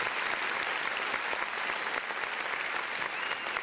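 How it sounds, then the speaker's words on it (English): Dense, steady applause from a sizable crowd, a continuous wash of clapping with no pauses. "So, round of applause for that, right?"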